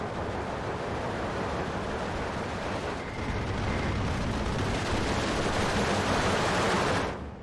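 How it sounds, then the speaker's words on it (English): Aircraft strafing a Maxim machine-gun infantry squad in the WWII strategy game Steel Division 2, heard as a dense, continuous roar of rapid gunfire and blasts that holds steady for about seven seconds before cutting off. "If I strafe this Maxim squad, see how much damage we do to them."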